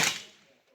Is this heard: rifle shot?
yes